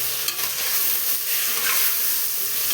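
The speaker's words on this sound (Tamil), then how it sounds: "இப்போது நம்ம ரெடி பண்ணி வச்சுருக்க மஷ்ரூமை அதில் போடுறோம்" Mushrooms sautéing in a pan for mushroom biryani: a loud, constant sizzle with scraping stirs mixed in, heard up close with no speech.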